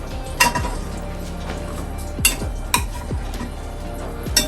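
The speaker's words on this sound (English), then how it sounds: "I'm just going to get a spoon, and I'm just going to mix that up a bit" A spoon stirs mixed vegetables in a pot for a beef daube, giving a few sharp scraping clinks against the metal over a low background hiss, close and fairly loud.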